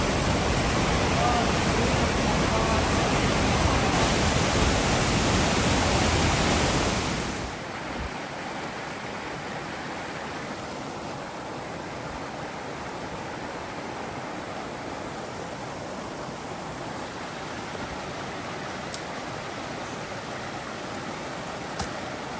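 Rushing water from two waterfalls meeting in mountain backcountry, a loud broadband roar for about seven seconds that then drops to a steadier, softer wash as the listener moves off.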